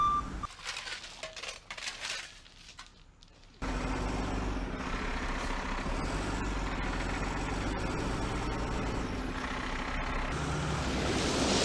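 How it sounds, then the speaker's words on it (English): A truck engine rumbles loudly and steadily while the truck backs in to dump gravel on muddy, slippery land, with a quieter, uneven stretch first and then a continuous low drone. "So he's going to try to back in, dump a little gravel there"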